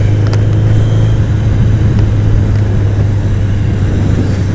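A motorcycle with its windshield removed heads off on a morning ride, producing a constant low engine drone mixed with wind rumble, steady and fairly loud throughout, with no speech.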